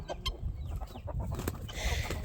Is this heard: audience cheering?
no